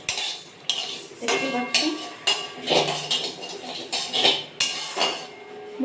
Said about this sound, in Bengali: মুগ ডালটা অবশ্যই হালকা করে একটু গরম কড়াইয়ে নেড়ে নিলে একটু বেশ ভালো হয়।